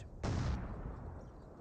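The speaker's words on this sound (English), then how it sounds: "Where is that barrage going?" A single heavy boom from an artillery barrage in the strategy game Company of Heroes 2, a sudden loud blast that fades into a lingering rumble.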